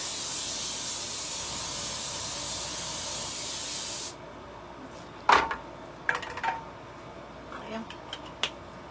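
Cooking spray hisses steadily onto a baking pan for about four seconds, then cuts off, followed by a few light clicks and handling knocks.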